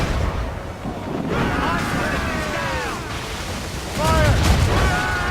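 Ship cannon fire in Assassin's Creed Rogue, a steady barrage of booming, rumbling blasts with a heavier burst near the end, mixed with shouting crew voices and whistling, swooping tones.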